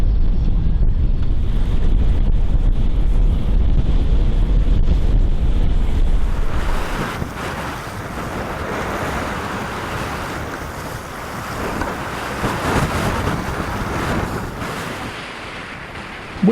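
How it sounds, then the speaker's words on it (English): Strong wind gusting near 30 knots roars across the microphone on a sailboat under jib, over rushing waves, a heavy continuous buffeting that eases slightly partway through. "it really was a very windy day"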